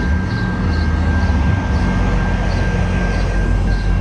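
A passenger train passes nearby in Canada, producing a loud, steady rumble with a faint high whine and a faint rhythmic wheel clatter throughout.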